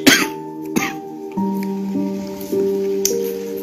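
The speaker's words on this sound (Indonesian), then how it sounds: "Sorry ya, batuk-batuk." Several sharp coughs, close and loud, spaced out over a few seconds, with a quiet hum and faint tones in the background.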